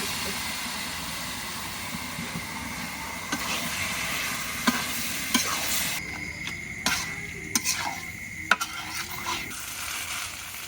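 Frying and stirring in a large wok (korai), with a steady broadband sizzle throughout and sharp utensil scrapes and clinks punctuating the second half.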